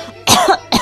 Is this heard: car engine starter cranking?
no